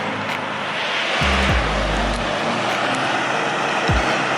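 Diesel truck engines idling nearby, a steady loud low rumble filling the background, with a short deeper revving swell partway through and no talking.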